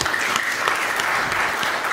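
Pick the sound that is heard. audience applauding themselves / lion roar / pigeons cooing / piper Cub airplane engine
audience applauding themselves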